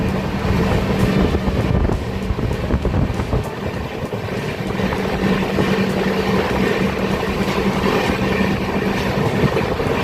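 Inside the Bihar Sampark Kranti Express on the Muzaffarpur to New Delhi run, the train gives off a loud, continuous rolling rumble with wind buffeting and a faint steady hum throughout.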